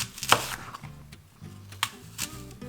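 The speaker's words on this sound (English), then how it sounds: "We're gonna start by chopping" A few sharp knife chops through an apple on a cutting board, irregularly spaced, close and crisp with quiet gaps between strikes.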